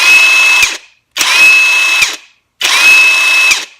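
A high-torque cordless impact wrench fires in three loud, close bursts of about half a second each, separated by short silences, with a hard rattling hammer over a steady motor whine.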